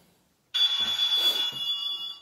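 A telephone rings on a game-show set, a bright trilling bell that starts suddenly after a moment of silence and continues steadily and close.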